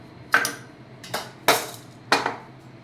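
Mustard seeds, cumin and chana dal dropped into hot oil for tempering a beetroot dish, heard as four sharp metallic clinks and crackles spaced about half a second apart, close and clear with no talking.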